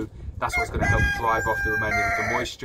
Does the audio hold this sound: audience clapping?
no